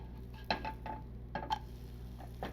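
A chocolate chip pancake gets flipped in a pan, giving a few light metallic clinks and scrapes of a utensil against cookware over a low steady hum, quiet and close.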